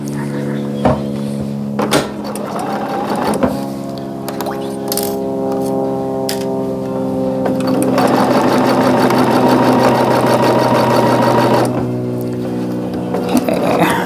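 Sewing machine stitching an economy quilt block, a loud close motor whir in steady runs that stop and restart, with soft handling clicks between bursts.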